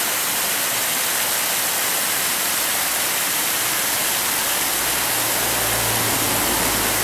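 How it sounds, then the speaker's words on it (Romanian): A waterfall between Anina and Bozovici, trickling over moss on a rock face: a steady, close hiss of running water that holds constant throughout, with a faint low hum beneath. "Cascada de zăr."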